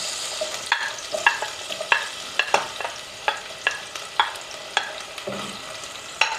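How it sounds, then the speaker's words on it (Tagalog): Chopped onions sautéing in oil in a pan for a home-style adobo, a steady soft sizzle broken by repeated sharp clicks and scrapes of a spatula stirring, close and fairly quiet with no voices. "Una natin gisahin yung sibuyas"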